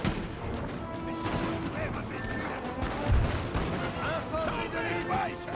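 Cannon and musket fire in the Napoleon: Total War video game: dense, rumbling battle noise with a heavier boom near the middle, continuous throughout, with someone talking over it.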